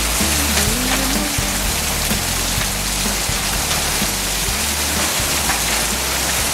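Heavy rain mixed with hail near Snegiri pours down as a loud, continuous hiss of drops battering surfaces, close and unbroken, with scattered sharper impacts and no speech.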